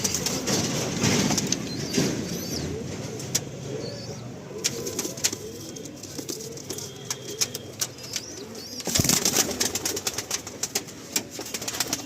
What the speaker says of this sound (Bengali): প্রতিটা খোপে দেখুন জোড়া পায়রা রয়েছে